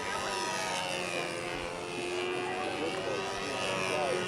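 A model airplane engine drones steadily, a high buzzing whine that swells and fades slightly as the plane passes, moderately distant and continuous with no break.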